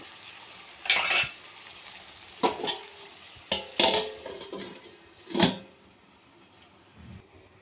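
Bitter gourd mixture is stirred in a pan with several distinct spatula scrapes and clanks against the metal, spaced irregularly over quiet background.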